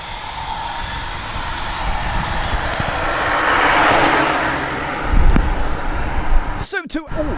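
A fixed-wing aircraft at Manchester Airport roars steadily, swelling and fading as it passes with wind-like rumble, loud and continuous, with a voice breaking in briefly near the end.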